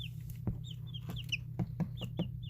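Chicks in a brooder cheep in short high chirps that repeat every half second or so, with soft knocks and taps from their beaks over a steady low hum.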